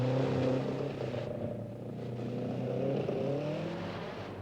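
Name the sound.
Mercedes rally car driving carefully through a riverbed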